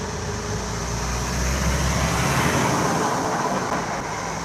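Dump trucks passing on a nearby road, a broad rumbling roar that swells and fades, with a constant high insect buzz continuing above it.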